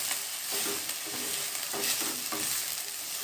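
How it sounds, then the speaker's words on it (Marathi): Roselle (ambadi) flowers roast and get stirred in a pan on low heat for jam, a steady close sizzle with soft rhythmic scraping strokes and no talk. "हे असे थोडे मस्त भाजून घ्यायचे."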